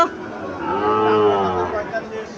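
A Sahiwal heifer calf at a cattle sale in Cumilla gives one long, loud, close moo that swells and then fades, with no talk over it.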